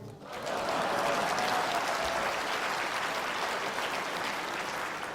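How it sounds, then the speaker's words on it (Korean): An audience at an ACN presentation bursts into sustained applause, a dense, even wash of clapping that carries steadily to the end with no break. "박수 쳐도 돼요"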